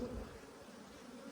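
Honey bees humming at a crowded, calm hive colony in a bee yard, a continuous low buzz close by without speech.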